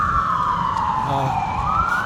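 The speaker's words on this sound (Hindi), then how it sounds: "फायर ब्रिगेड की 9 गाड़ियाँ आई थी। ये जा रही है" Fire engine sirens wailing loudly on Dundas Street East in downtown Toronto, the pitch sweeping down then up again as the trucks pass close by over street noise.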